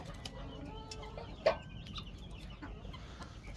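A chicken gives a few soft clucks in a coop, faint against steady background noise, with one sharper call near the middle.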